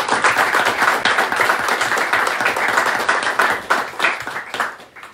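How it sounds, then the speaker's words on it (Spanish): Close, loud clapping from a modest group at a team press conference, individual hand claps distinct in a brisk uneven rhythm, swelling and then thinning out before fading at the end. "para ellos también pido un fuerte aplauso"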